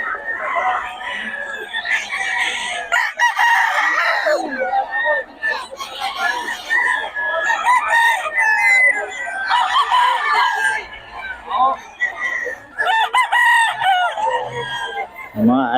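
Roosters in Bocaue crow loudly and repeatedly, close by, with hens clucking, the calls overlapping one another while people talk over them.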